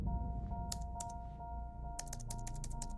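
Password typed on a keypad in the video game Fort Solis: a series of crisp, close clicking key presses, a few spaced taps early then a rapid cluster of clicks, over a steady low background hum.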